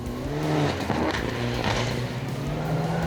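Mitsubishi Evo 4 rally car at a Rally New Zealand round, engine revving and shifting as it drives hard on a gravel stage, with tyre noise and changing pitch, fairly close and loud.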